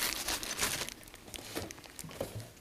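A plastic bag holding mounting hardware for a display arm is opened nearby, giving soft crinkling and rustling with brief crackles over about two and a half seconds, no talking.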